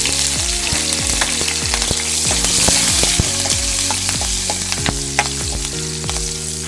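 Cumin seeds and curry leaves sizzle and crackle in hot oil in a pan, a loud, constant frying hiss with frequent close stirring scrapes throughout.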